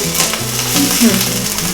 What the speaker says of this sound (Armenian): Սմբուկը տեղ-տեղ տապակվել է, անհավասար է տաքացնում սա երևի